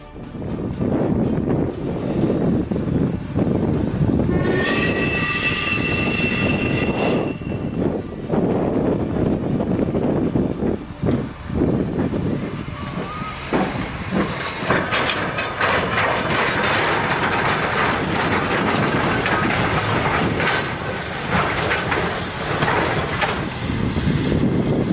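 Steam train passing on rails, loud rumbling with rhythmic clatter and buffeting wind noise, and a brief high whistle-like tone early on before the running noise continues.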